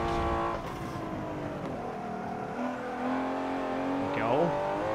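A race car in a racing video game, Forza 7 or Assetto Corsa, engine droning and rising through gear changes with a tire squeal near the end, loud and continuous with someone talking over it.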